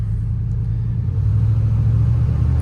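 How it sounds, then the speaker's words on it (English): Engine of a 1989 Chevrolet Silverado pickup truck on a test drive, a steady loud low rumble with a firm hum that swells slightly midway, heard from inside the cab with no talk. "We will be test driving this Chevrolet Silverado 1989 model."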